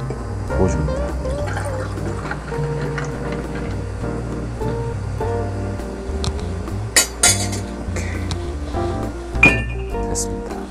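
Mixed iced tea poured over ice into a glass, with clinking ice and glassware, liquid splashing and a few sharp taps of utensils against the container, no talking.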